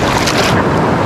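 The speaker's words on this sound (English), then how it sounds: "The last 2 days that we've been out here, it's been very high waves." High ocean waves crash and surge loudly onto a South Carolina beach at Hilton Head Island, a dense, continuous roar of breaking surf mixed with wind buffeting the microphone, with no voices.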